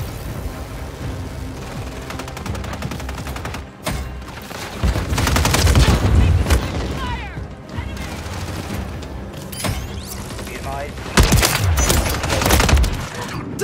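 Call of Duty Modern Warfare 3 multiplayer battle with heavy, continuous gunfire and explosive booms that rise and fall in intensity, a loud sharp blast near the end, and voices speaking intermittently throughout.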